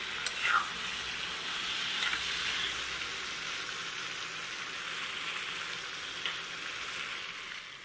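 Food fries with red chili added in a pan, a steady close crackling sizzle with a few brief clinks of utensils, no speech.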